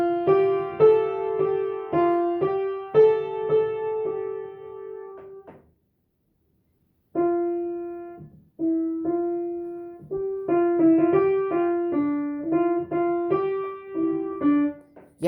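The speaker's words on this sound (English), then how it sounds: "A grand piano sounds loud like." A Young Chang baby grand piano plays a sequence of melodic notes with ringing sustain, pausing briefly midway before resuming, close and clear with no voices.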